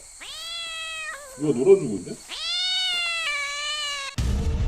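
A cat meows repeatedly in a horror video game, long drawn-out cries separated by a brief burst of scuffling noise, loud and close, with a voice speaking briefly over the sounds.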